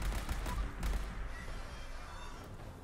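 Laser pistol shots in Fallout 76, a couple of punchy thudding blasts early on followed by quieter game ambience, with no voices.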